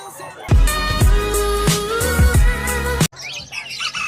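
Lovebirds, cockatiels and parakeets at the Bocaue pet market chirp in a dense, busy chorus of overlapping calls, close and loud, with thumps of handling mixed in before the chorus cuts off.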